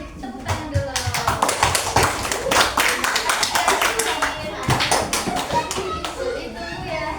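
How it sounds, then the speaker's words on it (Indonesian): Elementary school children clap together in a classroom, loud, close, rhythmic and fairly regular claps that keep going with children's voices mixed in. "Kasih tepuk tangan dulu."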